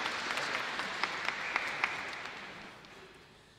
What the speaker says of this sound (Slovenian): Tudi za njega velja en iskren aplavz.